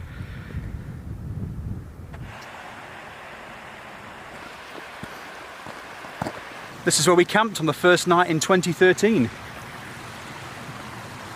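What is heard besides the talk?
river flowing near a campsite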